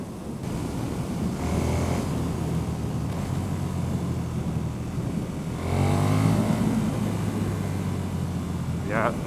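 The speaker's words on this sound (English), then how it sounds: "If they only knew that we are riding the mighty KTM Superduke." A 2014 KTM 1290 Superduke R motorcycle rumbles steadily while riding, with a low engine drone and wind that swells louder midway, as people talk over it.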